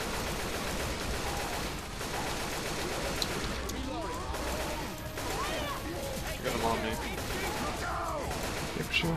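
Rapid gunfire from several weapons in Left 4 Dead 2, bursts and single shots mixed into a dense, noisy game soundscape with crashes and chaos, close and continuous for the whole stretch.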